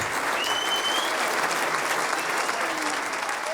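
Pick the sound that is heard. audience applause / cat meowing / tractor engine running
audience applause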